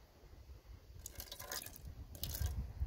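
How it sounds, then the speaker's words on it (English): Water is poured to rinse coffee off water-repellent shoes, coming as two short splashing, dripping bursts close by over a quiet background. "Now we're gonna rinse it off with some water."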